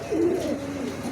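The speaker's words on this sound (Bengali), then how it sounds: "এক জোড়া শার্টিং আছে, মেলটা ডাকতেছে, এটা ফিমেল।" A male Shirting pigeon calls with one close, loud, low coo that swells briefly and then trails off into a softer, sustained hum.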